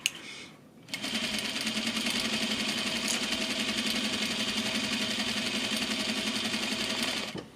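Domestic sewing machine stitching an exposed zipper into a garment, starting after a brief pause with a steady, rapid mechanical whir and needle chatter that runs close and loud for several seconds before stopping.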